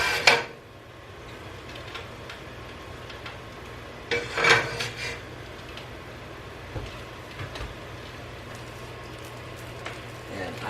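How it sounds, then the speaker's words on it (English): Metal tongs turning oiled pasta in a saute pan: soft scraping and a few light metallic clinks, a sharper knock at the start and another midway, all fairly quiet against faint background hum. "I just use the tongs to turn the pasta and get it coated in oil so that it doesn't stick."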